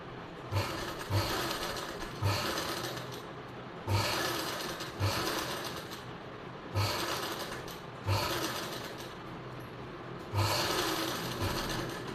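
A sewing machine stitches the lining of a blouse close to the zip, running in short, even bursts about every one and a half seconds with brief pauses between them, close and steady with no talking.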